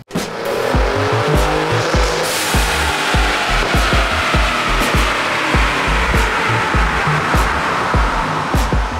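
Car fitted with Garrett PowerMax Stage 2 turbos, a Cobb intake and boost tubes roaring through a dyno pull, a loud sustained engine note climbing steadily with repeated sharp pops and crackles throughout, no voices.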